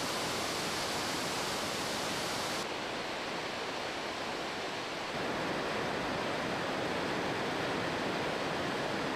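A 10 m high waterfall with a strong current pours in a steady, loud broadband roar of rushing water, continuous and unbroken with no voices.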